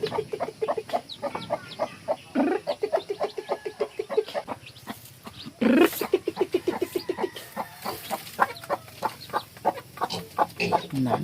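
Chickens cluck in a dense, continuous run of short, close calls, with a few louder squawks standing out.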